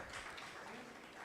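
Faint applause from a conference audience, a soft, dense patter of clapping heard briefly and from a distance.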